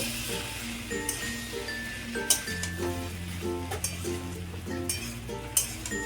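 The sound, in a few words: sautéing potato, radish and tomato vegetables on high heat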